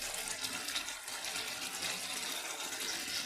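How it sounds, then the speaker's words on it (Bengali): Rohu fish pieces go into boiling water in a curry, a steady bubbling, hissing wash of liquid that runs loud and even throughout without pause. "জল ফুটে গেছে, এখন আমি মাছটা দিয়ে দেবো একে একে করে।"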